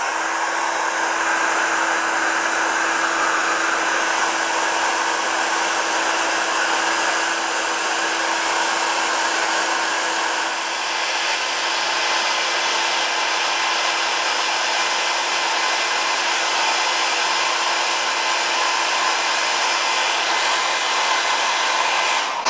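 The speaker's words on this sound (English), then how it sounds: "a hairdryer to warm it up" A hair dryer blows steadily at close range, a loud constant whooshing hum with a faint tonal whine, with no pauses and no voices.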